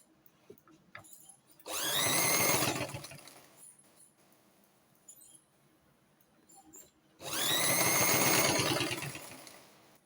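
A sewing machine stitches fabric in two loud, steady bursts of fast whirring needle chatter, each lasting about a second or two, separated by quiet pauses with faint handling clicks.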